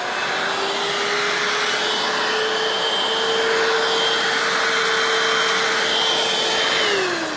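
A Dibea F6 cordless stick vacuum runs steadily on a floor, a loud, close, continuous motor whine and airflow rush that holds even throughout before dipping slightly near the end.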